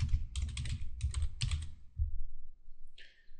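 A connection name typed on a computer keyboard in quick, close bursts of crisp key taps, several clusters with brief pauses, followed by a single sharper click after a short gap.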